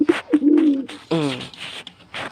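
Pigeons coo close by in a few throaty, rolling calls, with short pauses between them.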